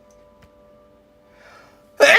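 One abrupt, loud sneeze bursts out right at the end after a near-silent pause with faint background hum.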